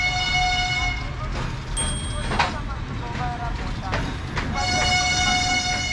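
A train at Shu station sounds its horn in long, steady toots over a continuous hum of idling rail machinery, with a brief shrill tone partway through and a fresh horn blast near the end.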